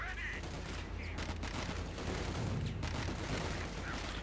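Gunfire and mortar blasts from a Company of Heroes 2 battle, with dense bursts of shots and booms layered over continuous battle noise and a voice talking throughout.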